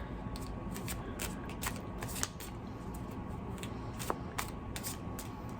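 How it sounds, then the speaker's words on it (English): Tarot cards riffle and slide in quick, papery bursts, close and fairly quiet, with a couple of sharper snaps as the deck is shuffled. "So let's give this a shuffle."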